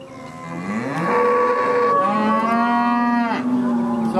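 Angus cattle at a Queensland field day give one long, loud, close moo that rises and holds, with a second bellow following.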